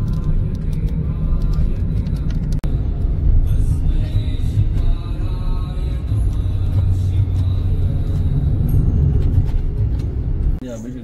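Road traffic in Mumbai in the early hours, with large container trucks rumbling past, a dense continuous low engine roar with passing surges and voices talking over it.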